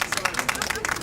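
A small crowd claps in a movie scene, rapid, dense and steady applause throughout, fairly close and moderately loud.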